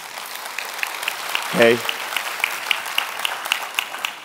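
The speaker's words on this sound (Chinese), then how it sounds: "我们再次掌声欢迎他" An indoor audience applauds steadily to welcome a guest at a company presentation, a continuous wash of clapping throughout, with a brief spoken word from a man partway through.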